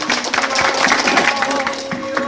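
A crowd at an official gathering about farmers in Pemalang Regency, Indonesia claps in a short, dense burst of applause for a government department head, with some voices mixed in.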